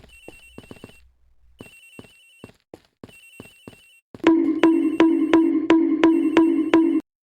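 In-game telephone ringing aboard an airplane in Ace Attorney Investigations: Miles Edgeworth, first quiet clicking electronic blips, then a loud, rapid, repeating electronic ring pulsing for about three seconds, with no voices.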